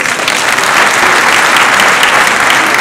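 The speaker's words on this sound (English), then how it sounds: "Please, a round of applause." Dense, steady applause from a large audience at a gathering honouring the Asantehene, a loud continuous wash of clapping with no pauses, close and full throughout.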